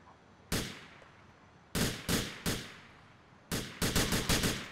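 Gunfire in GTA 4, a video game, crisp separate shotgun-like blasts with decaying tails, single shots at first and then a rapid cluster of several shots near the end, loud against a quiet background.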